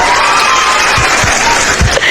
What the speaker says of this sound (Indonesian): Tepuk tangan buat Bunda Gembala